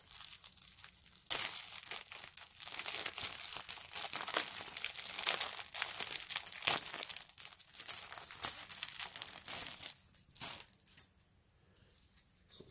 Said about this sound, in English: So undo the plastic here.